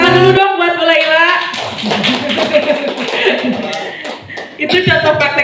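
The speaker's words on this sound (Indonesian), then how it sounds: "Tepuk tangan dulu dong buat Bu Laila." A group of teachers at a school positive-culture dissemination session claps hands together, with the clapping heard close and loud alongside laughter and talking throughout.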